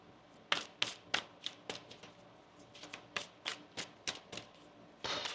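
Tarot cards riffle and snap in a steady run of sharp, close shuffles, roughly a dozen crisp bursts, ending in a longer flurry of card noise with no talking.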